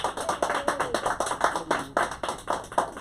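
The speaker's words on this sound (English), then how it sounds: "one more round of applause for Thomas." An audience in a lounge gives a round of applause for a performer, with steady, fairly close clapping from a modest crowd lasting a few seconds.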